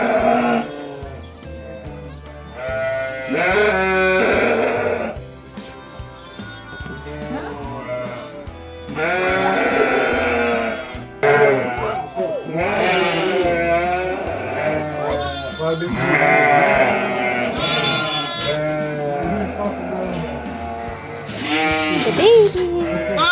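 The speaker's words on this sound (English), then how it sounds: "Do you hear some sheep?" Sheep bleat repeatedly at a sheep farm, loud and close, with frequent overlapping calls throughout while people talk in between.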